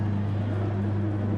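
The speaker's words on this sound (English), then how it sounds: "Let's wait for the revs to rise." A Super Formula race car engine in the GT Sport video game, on the Autopolis circuit, revs and holds a steady droning tone on the grid before the start, with no talking over it.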